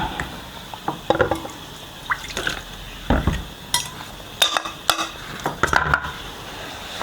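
Sago is poured into a pot of water coming to the boil, giving small clinks of utensil on pot, faint drips and liquid stirring sounds in a quiet kitchen.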